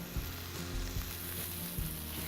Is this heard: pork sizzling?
yes